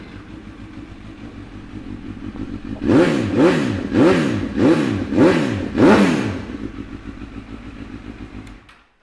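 A 2015 Honda CB1000R Extreme with an Akrapovic exhaust idling, then blipped through six sharp, evenly spaced throttle revs that rise and fall, before settling back to a rumbling idle.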